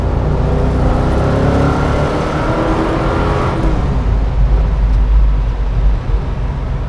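A 1965 Ford Mustang Fastback GT350 with a 302 V8 bored to 306 accelerates hard, its loud engine rising in pitch, dropping briefly at a gear change around 5,000 rpm, then pulling again, heard from inside the car.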